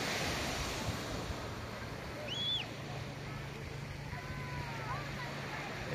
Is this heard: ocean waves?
yes